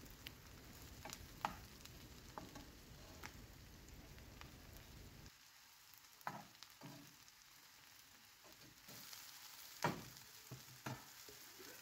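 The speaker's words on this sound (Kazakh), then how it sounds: "Міне біздің шампиньонымыз қуырылып дайын болып қалды." Champignon mushrooms sizzle and crackle steadily in a frying pan, close and continuous, with occasional stirring clatter and a quieter stretch midway.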